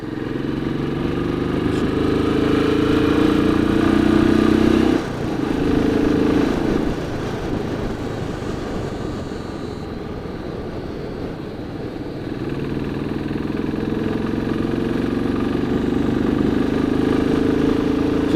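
A 2017 Royal Enfield 500 Classic single-cylinder engine thumps steadily while riding, the note dipping as it downshifts around five seconds, then settling and rising again, with a close, loud mechanical rumble.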